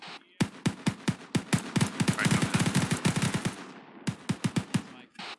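Automatic gunfire in a military shooter video game, with close, loud, rapid rounds in several long bursts, a brief pause, then another short volley.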